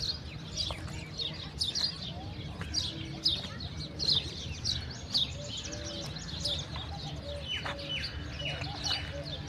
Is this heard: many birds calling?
yes